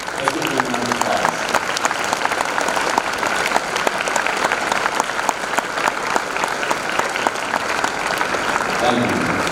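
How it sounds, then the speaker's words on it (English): Audience applause at a high school Veterans Day tribute, steady and dense clapping from a large crowd that fills the whole stretch before fading slightly at the end. "Let's give them a round of applause."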